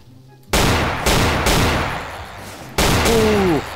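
Heavy gunfire from a weapon in Garry's Mod, in a FNAF pizzeria map: three loud, sustained bursts of shooting separated by brief gaps, with a short whining tone near the end.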